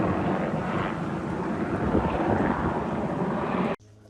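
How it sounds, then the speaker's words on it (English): A loud, continuous roar of military helicopters overhead rumbles with wind buffeting, holding steady for several seconds before cutting off suddenly, near Camp Pendleton. "Quick shot of the military helicopters that always fly over us."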